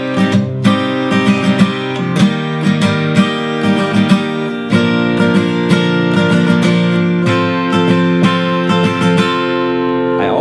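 An acoustic guitar strums a down-up rhythm pattern through the chords of a song, with steady, loud strokes and one chord change partway through, with no voice.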